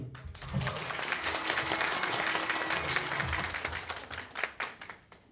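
An audience at a corporate event honoring women gives hearty applause as a woman is invited on stage: continuous, full clapping with a few sharper hand claps standing out, fairly even in level and free of talk.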